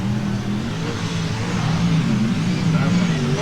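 Sprint car engines roar together during a heat race at Canberra Powerdome speedway, a steady loud drone of distant motors with no break.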